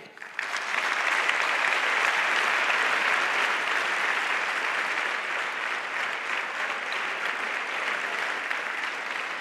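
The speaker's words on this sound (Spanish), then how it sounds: "pido el aplauso para Librería Alcarreña" Audience applause at an awards gala, a sustained wash of many hands clapping that rises quickly and holds at an even level for several seconds, loud and with no speech over it.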